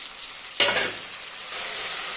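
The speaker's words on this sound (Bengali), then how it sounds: "এবার আমি মশলাগুলো সব দিয়ে দিচ্ছি।" Ground spice pastes of cumin, radhuni, onion with turmeric and dried chilli powder hit hot oil with potatoes and eggplant, bursting into a sharp, loud sizzle that settles into a steady hiss, with no talk.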